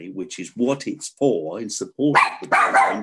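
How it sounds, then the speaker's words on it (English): A dog barks in the background during a talk about ballet and dance, sharp yips breaking in under and between a man's steady speech. "Sorry about the dog in the background."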